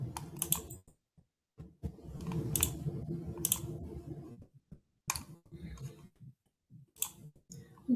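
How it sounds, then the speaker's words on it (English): Quick bursts of computer clicking and tapping come close and fairly faint as someone moves through chat windows, in irregular clusters separated by short silences. "I'm just clicking through the different chats to make sure we don't have any questions that we've missed"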